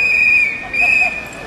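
Shrill whistles blown by protesters at a trade union rally outside the government building, a steady piercing tone swelling twice over faint crowd babble.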